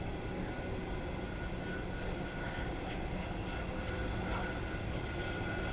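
Steady broadband roar of an EasyJet airliner heading out at London Gatwick Airport, a continuous low rumble with a faint whine, heard from a distance with no talk.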